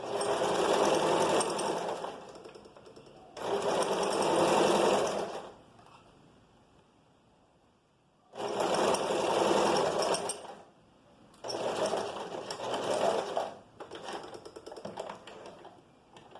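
A sewing machine stitches a seam on a vest in four loud, close bursts of fast needle chatter. Short quiet gaps separate the bursts, with softer mechanical clicking near the end.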